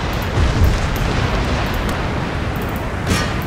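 Cannon fire from a battlefield in Empire: Total War, a dense rumbling wash of booming explosions with a sharper burst near the start and another around three seconds in, with no talking.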